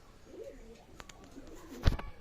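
Young pigeons flying high overhead outdoors, with a few faint coos and flutters and one louder close burst near the end over quiet background.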